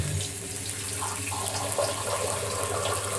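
Water pours steadily into a cooking pan holding a little oil for a light lunch dish, a continuous close rushing splash lasting the whole moment with no voices.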